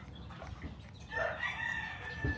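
A rooster crows at a Sunday market, its call rising loud and sustained midway through and standing out over a low murmur of background market noise.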